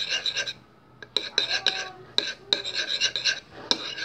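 Glue and water slime mixture stirred in a bowl, with repeated scraping, clinking utensil strokes in uneven bursts, close and fairly loud.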